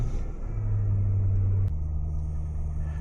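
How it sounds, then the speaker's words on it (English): A Lexus LS430 engine running on E60 fuel idles with a low, steady rumble, its pitch stepping up briefly as it revs, close by. "it starts right up, and I can rev it."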